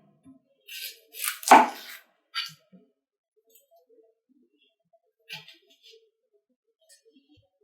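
Red onion being chopped with a knife on a board, a few sparse cuts with one loud thump early, then quiet gaps and faint later taps, close and without talk.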